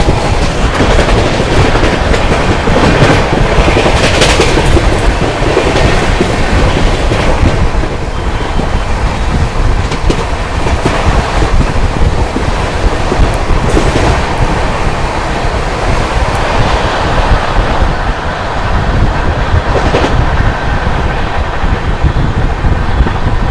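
The 22406 Anand Vihar to Bhagalpur Garib Rath LHB express rolls along the rails with a loud, continuous roar, rhythmic clickety-clack of wheels over joints and heavy wind rush throughout, without any voices.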